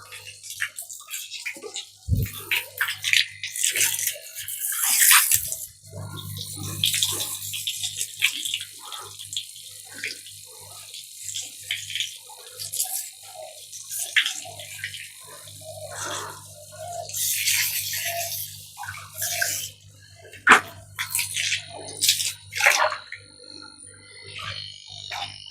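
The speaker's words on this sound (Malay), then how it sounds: "sekarang ni saya akan buang air dalam pot semen ni" Water drains out of a cement tank on a small tilapia farm, gurgling, trickling and splashing in uneven bursts. Faint croak-like sounds and a low hum continue in the background, with no talking.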